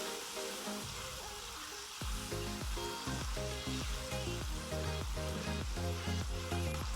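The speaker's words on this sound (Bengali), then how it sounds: "মশলাটা কষানোর সাথে সাথে কষানো হচ্ছে" Spice paste sautés in a pan for a shrimp curry with eggplant, potato and tomato, giving a soft, steady sizzle under rhythmic background music.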